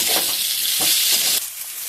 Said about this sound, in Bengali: এখন ভেজে রাখা সিমের বিচি আর আলুটাও দিয়ে সবগুলো একসাথে ভালোভাবে কষিয়ে নেব